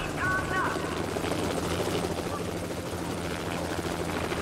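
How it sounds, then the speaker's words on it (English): A helicopter flying overhead in a VR game set on the Planet of the Apes, heard as a continuous thudding rotor drone with a whine, steady and moderately near beneath the play. "the 3D sound of that helicopter is freaking nuts"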